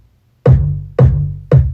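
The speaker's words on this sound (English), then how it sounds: "Here's the kick" Three punchy electronic kick drum hits in a produced beat, spaced about half a second apart, each with a sharp attack and a long booming low tail, played loud with no voices.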